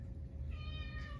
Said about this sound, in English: Oh, it's a pretty kitty.